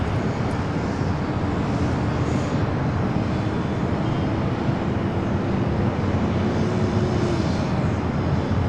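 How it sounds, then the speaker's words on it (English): A Southwest Boeing 737-700 takes off at LAX, bound for Sacramento, with a loud, continuous broadband jet roar that holds steady throughout, backed by faint wind rumble and no speech. "Next takeoff is Southwest 737-700 heading to Sacramento"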